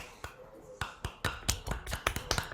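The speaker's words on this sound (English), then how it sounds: "if you want to briefly unmute yourself and clap, that'd be great" A few online listeners clap on a video call after an art and science talk, scattered sharp claps overlapping loosely, close-miked and fairly quiet with no talking.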